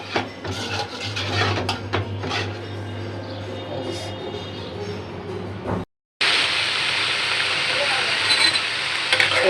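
Eggs cooking in a pan for a curry with cow's milk, giving a steady hiss and sizzle over a low hum, broken by a brief silence and then returning louder and brighter.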